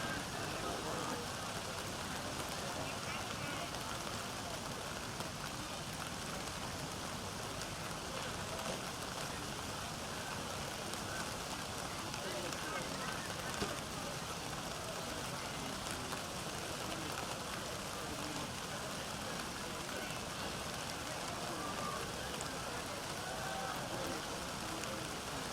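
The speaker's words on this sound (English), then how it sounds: "Looks like the rain has eased up just a bit." Steady rain falling outdoors at a cross country race, a continuous even hiss of drops on surfaces throughout, with no clear voices over it.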